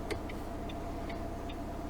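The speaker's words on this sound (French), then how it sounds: "Et je prends mon temps, je remets bien le clignotant." A car's turn signal indicator ticks in a steady, faint rhythm inside the cabin during a driving lesson in Aix-en-Provence, over a low engine hum.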